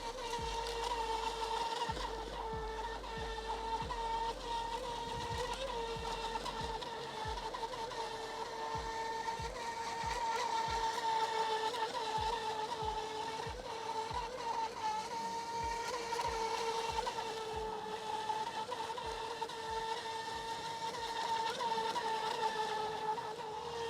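A Feilun FT011 4S brushless RC racing boat runs on the water with a steady, high-pitched electric motor whine. It comes across as faint and distant and holds for about twenty-four seconds, with no talking.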